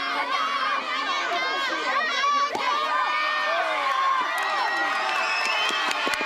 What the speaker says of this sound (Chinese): 冠军班级兴高采烈的大声欢呼